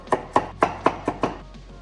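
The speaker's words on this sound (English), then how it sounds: "Chop up some parsley." A knife chops fresh parsley on a cutting board, six crisp, evenly spaced strikes at a steady rhythm, close and clear with nothing else audible.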